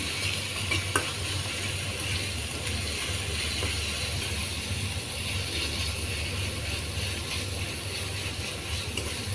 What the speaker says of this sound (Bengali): তাই ভালোভাবে ভেজে নিচ্ছি বাদামি কালারের মতো করে।